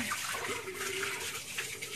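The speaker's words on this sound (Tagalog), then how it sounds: "ito ang kanilang lababo" Water pours steadily from a tap into a sink at a beachside spot, a continuous close, hissing rush with no pauses.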